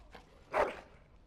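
A single short dog bark in the Dragon Age video game, moderately loud, preceded by a faint softer yelp and followed by quiet.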